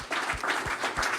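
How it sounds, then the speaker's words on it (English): Audience applause at a political forum in Wisconsin, a short, quiet burst of clapping from the crowd. "yes, you can give them a round of applause."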